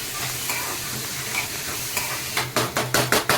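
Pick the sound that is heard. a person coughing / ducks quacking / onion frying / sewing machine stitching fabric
onion frying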